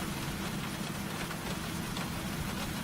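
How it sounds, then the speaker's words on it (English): Heavy rain drums on a car during a storm in a storm-chasing video game, a dense, even wash of hiss and patter with a low rumble underneath, steady and loud throughout with no talking. "the rain gets heavier the more he drives in"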